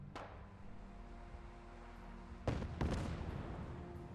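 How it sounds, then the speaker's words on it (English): Gunfire and explosions from Fallout 4 play out in the game world: a sharp distant shot, then two heavier blasts a few seconds later with rumbling tails over a constant low ambient drone. "There's gunfire."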